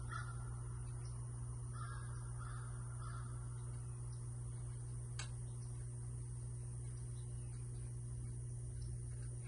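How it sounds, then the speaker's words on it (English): A few distant raven caws sound faintly over a steady low hum and quiet outdoor background. "You get the ravens and the birds making noise."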